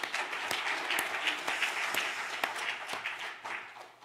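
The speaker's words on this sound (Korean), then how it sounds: "우리 격려의 박수 한번 보내겠습니다" Applause from a church congregation at a Wednesday worship service, a steady wash of many hands clapping at moderate distance with a few sharper claps standing out, fading slightly toward the end.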